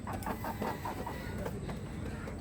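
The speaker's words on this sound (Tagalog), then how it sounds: "Ito pala yung mga alaga naming mga manok." Native chickens clucking in a steady, busy stream of short calls, fairly close, with a constant outdoor background hum and no talking.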